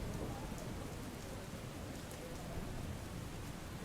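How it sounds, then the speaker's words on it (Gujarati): Steady rain hisses without pause in western Ahmedabad, a dense, even wash of falling drops with no voices. "અમદાવાદ પશ્ચિમના કેટલાક વિસ્તારોમાં વરસાદી ઝાપટા પડી રહ્યા છે"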